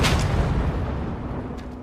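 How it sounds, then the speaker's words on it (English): A fire extinguisher blows up in a video game with a loud booming blast that decays into a rumbling hiss over about two seconds, followed by a few faint clicks. "I thought that'd be like a teeny, piddly little explosion from the fire extinguisher."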